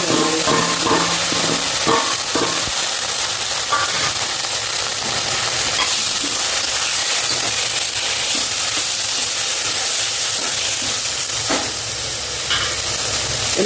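Onions sautéing in a pan for a village-style urad dal chutney, giving a steady loud sizzle with occasional stirring scrapes throughout, no talking.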